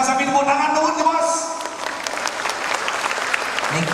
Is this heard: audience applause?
yes